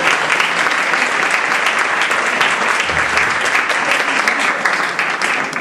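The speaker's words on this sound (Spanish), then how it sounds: "un aplauso muy grande por" Loud, sustained applause from a large crowd, steady dense clapping throughout with no pauses.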